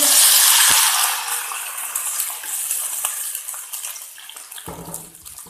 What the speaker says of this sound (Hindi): ये डाल के हम इसको 1 मिनट के लिए भून के मटन स्टॉक डाल देंगे।